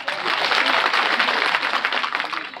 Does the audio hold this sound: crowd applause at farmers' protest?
yes